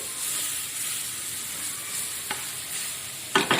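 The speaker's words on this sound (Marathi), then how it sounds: "तुम्ही बघत आहात खरडा भाजून निघत आहे" Dry kharda chutney of garlic, peanuts, cumin, chilli and coriander roasts in a pan with a soft, continuous sizzle, with a couple of sharp scraping stirs near the end; no talking.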